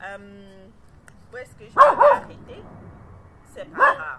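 A pet dog gives two short bursts of barking indoors, close to the listener, with someone talking in French between and around the barks.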